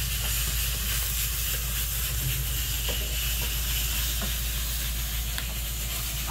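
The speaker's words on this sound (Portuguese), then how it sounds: "Agora eu vou deixar fritando aqui bem" Rice frying in a pan with salt, a steady dense sizzle and hiss that holds evenly throughout at close range, with no talking over it.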